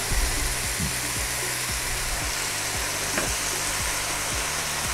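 Chicken pieces frying in a pot with cloves and bay leaves as the base for chicken noodle soup, a loud steady sizzle filling the whole stretch with a few soft stirring knocks, no talking.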